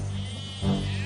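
Sheep and goats out in a field let out a single short bleat, sounding moderately close over a steady low hum of background noise.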